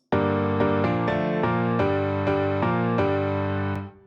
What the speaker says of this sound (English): And then we have the grand piano.